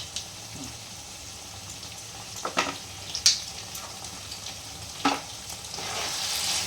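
Soybean chilli with soy sauce and tomato sauce sizzles in a hot pan with a constant frying hiss, punctuated by a few sharp scraping stirs and spits.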